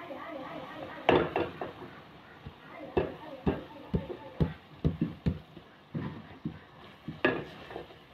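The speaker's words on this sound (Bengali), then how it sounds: "এখানে আমি এখন নুডলসটা ঢেলে দিব।" Noodles tipped into a pan and stirred, giving scattered knocks and scrapes of utensils against cookware at close range, with irregular clattering bursts throughout.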